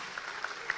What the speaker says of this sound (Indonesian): tepuk tangan jangan ragu-ragu